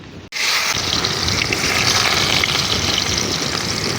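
Chopped onions hitting hot oil in a kadai break into a loud, steady broadband sizzle that starts abruptly after a brief silence and holds without pause.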